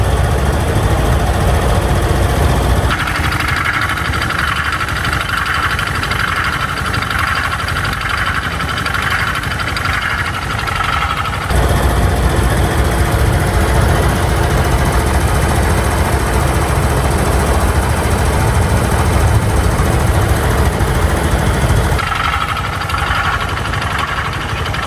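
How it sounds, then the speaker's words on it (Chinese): A new SYM scooter engine idles after a factory repair for an abnormal engine noise, giving a loud, steady, close hum with a smooth and continuous low rumble throughout. "维修前后发动机的声音对比是十分强烈的，也非常直观"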